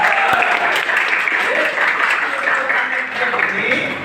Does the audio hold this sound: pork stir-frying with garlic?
no